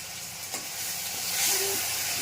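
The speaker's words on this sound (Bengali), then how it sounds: "কড়াইয়ের মধ্যে কালো জিরে ফোড়ন দিয়েছি" Black cumin seeds crackle and sizzle in hot oil in a wok, the hiss swelling briefly louder near the end of the short burst.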